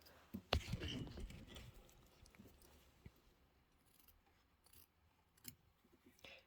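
Scissors snip through a piece of fabric during pillow sewing work, a few crisp close cuts clustered early, then quieter rustling and sparse clicks in a near-silent room.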